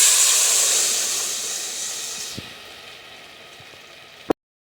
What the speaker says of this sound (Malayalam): ഈ ചൂടിൽ തന്നെ നമ്മൾ മിക്സ് ചെയ്തിരിക്കുന്ന ബാറ്റർ ഒഴിച്ചു കൊടുക്കണം